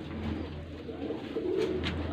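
A pigeon of a breeder's stock coos nearby, low repeated throaty calls rising and falling over about two seconds, fairly close and clear with no talk.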